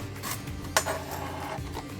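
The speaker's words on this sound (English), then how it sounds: "we are just gonna be doing a lot of chopping." Vegetables, including carrots, are chopped for chili with a knife on a cutting board, giving soft rubbing slices and one sharper knock, close and quiet, with no talking.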